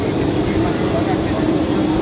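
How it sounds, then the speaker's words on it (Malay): A steady, loud engine roar fills an aircraft cabin, a constant broadband rumble and hiss with no break across the whole stretch. "Ni dalam kapal lah. Dalam kapal terbang Jerman tadi."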